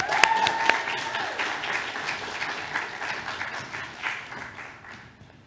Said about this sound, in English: A round of applause for Arifa.